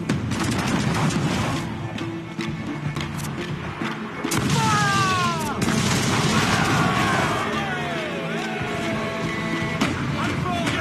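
Naval battle in Assassin's Creed IV Black Flag: booming ship cannon fire and crashing impacts roll over a dense roar of wind, sea and creaking rigging, with crew voices shouting throughout.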